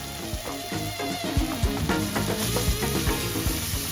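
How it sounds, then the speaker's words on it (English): Thai chili paste sizzles and crackles steadily in a hot pan during a stir-fry, with irregular spatters and stirring scrapes. The sound is close and continuous, and no one speaks. "Stir fry for a little bit"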